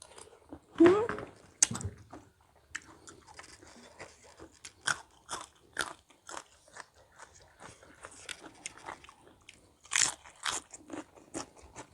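Someone bites into and chews spicy blue crab papaya salad with rice noodles, giving sharp shell crunches followed by a run of wet, irregular chewing and squishing close to the mic, with voices talking now and then.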